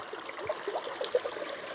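A small stream flows along a canal, a faint, soft trickle with light gurgles and no voices.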